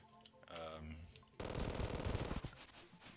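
A chain gun in Terraria firing at a very high rate, a loud continuous stream of rapid shots that starts abruptly after a moment of speech-like sound and game audio, then runs on to the end.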